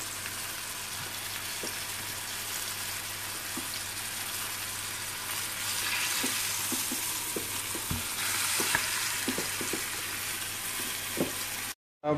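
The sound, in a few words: lamb shank searing over high heat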